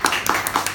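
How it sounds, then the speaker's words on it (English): Brief burst of audience clapping at a pub comedy show, dense and close, with several quick rhythmic hand claps standing out over a short stretch. "Oh, Dorothy from Croydon, give her a round of applause."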